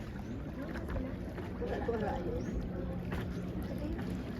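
A motorboat speeds across water on an outing at Cavanico, its engine and hull rush forming a steady broad roar with wind and splashing throughout, while voices talk faintly over it.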